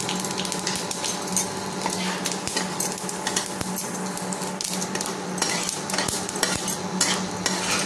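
Steady clattering of a utensil stirring a mustard oil tempering in a pan while cooking a village-style drumstick leaf and cauliflower curry, with a continuous close scraping and soft sizzle and no talking.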